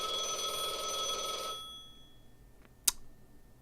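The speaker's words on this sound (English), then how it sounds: "Oh, that's my phone." A phone rings in the video game Blue Archive: a loud, steady electronic ringing tone for about a second and a half, then it cuts off, leaving a quiet background and a brief click.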